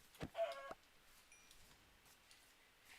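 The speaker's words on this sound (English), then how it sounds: "Chicken." A Minecraft chicken gives a short burst of clucks near the start, two or three quick close calls, then only quiet game ambience.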